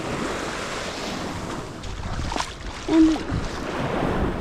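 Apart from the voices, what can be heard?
waves on a beach at Koh Lanta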